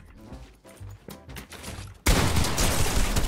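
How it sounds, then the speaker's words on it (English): Gunfire in the video game Fortnite erupts suddenly as a loud, dense burst of shots and blasts partway through, after a stretch of excited voices and game noise. "You're shooting me!"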